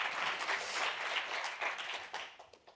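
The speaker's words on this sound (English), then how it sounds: "Round of applause." A museum audience claps warmly at the end of a talk, a brief burst of dense applause that tapers off within a few seconds.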